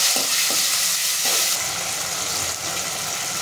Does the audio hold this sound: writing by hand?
no